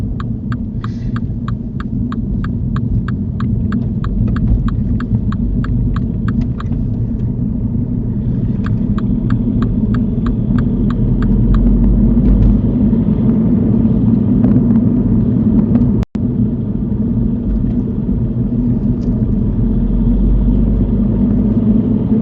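A car cruises along a dual carriageway with a steady low engine rumble and road hum throughout, plus a rapid ticking indicator in the early seconds and a brief click near the end.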